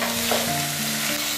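Potatoes stir-fried in a pan after cooking covered on low heat, a loud dense sizzle with a brief scrape of the spatula, close and alone.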